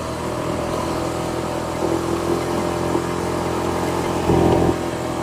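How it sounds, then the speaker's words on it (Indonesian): A motor scooter climbs a mountain road with a steady, strained engine drone and broadband wind rush, briefly swelling louder near the end, and no voices. "Motor skuter kalau dibuat naik itu tenaganya kurang bagi semua"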